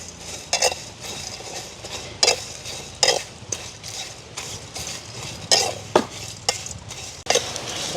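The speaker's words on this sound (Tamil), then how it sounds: "இப்போ பார்த்தீங்கன்னா நாங்கள் இந்த பிரியாணி மசாலா வந்து வறுத்தெடுப்போம்" Biryani masala spices roasting in a pan while being stirred. Repeated spatula scrapes and clinks against the metal sound close by over a soft dry frying hiss, with no talking.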